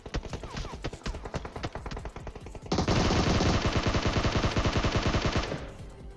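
Rapid automatic gunfire in the PUBG video game, first scattered bursts of shots, then a dense continuous stream of fire that stops abruptly near the end.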